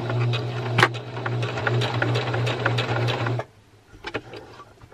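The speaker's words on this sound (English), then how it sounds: "I'm just going to go ahead and sew as close to the edge here as I can and back tack" A sewing machine stitches fabric close to an edge with a steady mechanical whir and rhythmic needle clatter for about three seconds, then stops abruptly, leaving a few light clicks.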